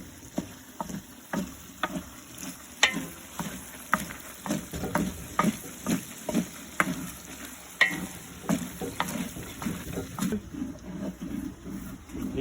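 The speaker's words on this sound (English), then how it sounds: "You got to keep stirring this" Meat, including breakfast sausage, frying in a big jambalaya pot while a paddle stirs it, with repeated scraping strokes in a steady rhythm over a continuous sizzle, close and clear.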